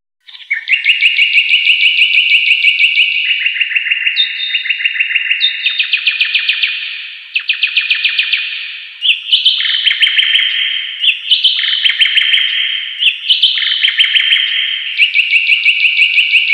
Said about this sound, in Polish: Widząc to, słowik zaśpiewał jeszcze piękniej.